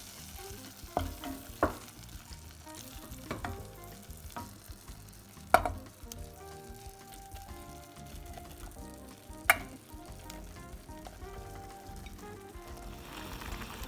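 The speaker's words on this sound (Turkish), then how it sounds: "Şimdi üzerine sıvı yağımı koyuyorum. Ve mantarlarımı ilave edeceğim." Mushrooms fry in oil with golden onions in a pan, giving a steady, soft sizzle with occasional sharper clicks from stirring.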